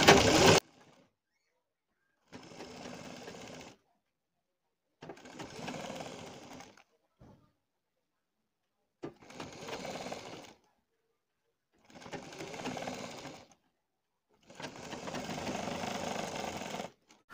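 A sewing machine stitches the neckline of a boat-neck blouse, running in about six separate close bursts of a few seconds each, with short silent pauses between runs.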